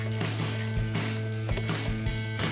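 Close ratchet clicks come in short repeated bursts with a few pauses as throttle body bolts on a Silverado 1500 are cross-tightened during a Jet Performance 80mm Powr-Flo throttle body install. There is no talking.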